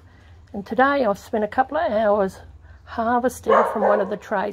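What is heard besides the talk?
neighbour's dog barking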